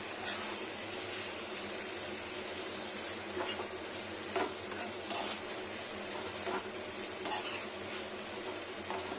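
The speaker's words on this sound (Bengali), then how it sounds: "এই টমেটোর সঙ্গে আলুটা খুব সুন্দর ভাজা ভাজা করতে হবে" Potatoes and tomatoes sizzling in a pan, with a steady fry hiss and repeated scrapes of a spatula stirring them, heard close with no voices.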